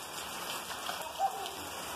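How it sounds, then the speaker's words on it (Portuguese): Rain falls steadily during an outdoor football game, a soft even patter with one faint brief tone near the middle. "Ah, chuva."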